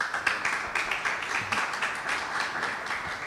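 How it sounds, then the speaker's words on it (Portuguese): Audience applause for speaker Delmar Reschke at a talk on team building and development: dense, steady clapping from a crowd, filling the full stretch at an even level with no voices. "uma salva de palmas aí para o Delmar"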